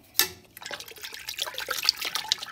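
A spoon stirs hot water in a container where a full lace wig is being boiled, giving a brief clink followed by continuous sloshing and swirling liquid at close range, with no speech.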